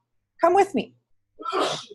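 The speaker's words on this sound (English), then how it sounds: "bless you" A single sharp human sneeze bursts out near the end, close and loud, after a short spoken phrase from a person.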